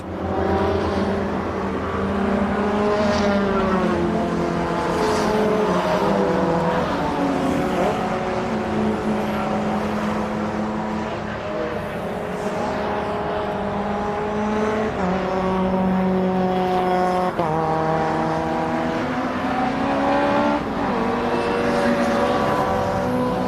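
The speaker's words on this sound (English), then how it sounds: "We've got a constant flow of these Trackday Championship cars thumping around the Brands Hatch GP circuit here." Trackday Championship race cars lap the Brands Hatch GP circuit in a constant stream, engines thumping and rising and falling in pitch as they pass, loud and continuous throughout.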